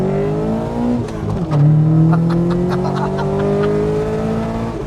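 A Vauxhall Nova Sport running Weber twin 40 carburettors revs loudly and close by, its engine note dipping briefly and then climbing into a sustained, strained howl.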